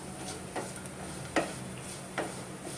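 Spices slow-roasting in a pan for sambhar give a quiet, continuous rustle and gentle sizzle, with a few soft scraping strokes of a spoon across the pan.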